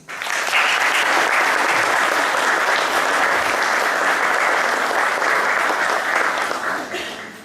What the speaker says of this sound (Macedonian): Ве поканувам со пригоден аплауз да ја поздравиме денешната генерација на дипломирани